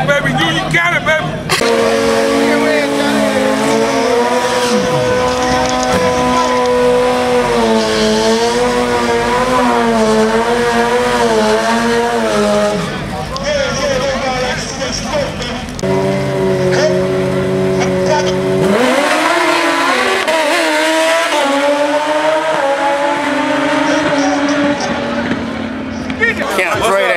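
Drag race cars at Union Dragway in South Carolina during grudge racing, engines roaring loudly and continuously with rising revs, a brief lull, then another hard run, with voices chattering over the din.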